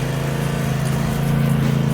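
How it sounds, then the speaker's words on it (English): A lawn mower engine drones loud and steady up close as it drags a stuck three-wheeler out, with no talk over it. "We had to drag it out with the mower."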